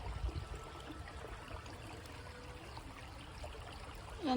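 A small clear stream flows steadily outdoors in a leafy summer setting, a continuous soft trickling wash with no talk, slightly louder at the very end.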